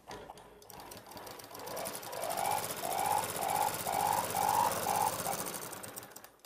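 A sewing machine stitches elastic onto palazzo pant cloth, a close, rhythmic whirring burst lasting several seconds that rises and falls as the fabric is pulled taut.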